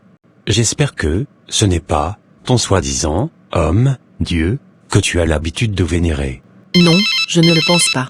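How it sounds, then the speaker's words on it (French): A mobile phone ringtone rings near the end, a bright repeating electronic tone that follows a stretch of French speech and briefly overlaps it. "c'est mon téléphone qui sonne."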